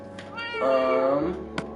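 A pet cat named Pumpkin meowing in the Minecraft video game, one drawn-out, clear meow with a short chirp before it, close and fairly loud.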